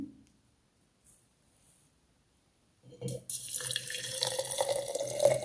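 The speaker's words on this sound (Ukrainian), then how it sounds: "Заливаємо водичкою." Cold water poured into a jar for sowing seeds: near silence with faint taps, then a steady splashing stream of water filling the jar for the last couple of seconds.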